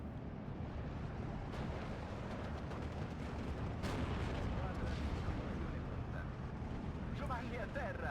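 Mortar rounds and gunfire from a World War II battle in Steel Division 2 pound on without letup, a thick rumbling barrage with scattered sharp reports layered throughout.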